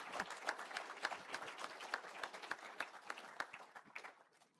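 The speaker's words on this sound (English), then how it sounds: "Can we give them another round of applause?" Audience applause at a political conference session, a scattered round of hand clapping with distinct individual claps at moderate distance, fairly quiet and fading out toward the end.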